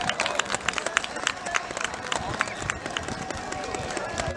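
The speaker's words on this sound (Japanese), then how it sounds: "皆様盛大な拍手でお送りください。" Applause from a crowd at a Shinto shrine festival in Chikura, Bōshū, where a mikoshi portable shrine is carried, with dense clapping mixed with busy outdoor crowd noise and a voice, steady and moderately loud throughout.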